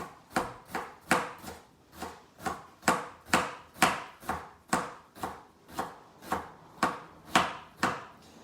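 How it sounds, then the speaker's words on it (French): An onion being finely chopped with a knife on a board, for beef spring rolls: a steady run of about twenty crisp, sharp chops at an even brisk rhythm, close and clear with no talking. "l'oignon, il faut le hacher finement"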